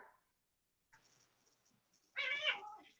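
A house cat gives a short, faint meow, then a soft scratchy rustle, then a louder, drawn-out meow near the end, close to the microphone in a quiet room.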